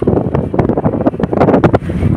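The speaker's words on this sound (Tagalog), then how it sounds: "Mahangin, maalon sa dagat." Strong gusting wind buffets the microphone in repeated loud bursts beside a boat on a rough, choppy sea, with waves churning underneath.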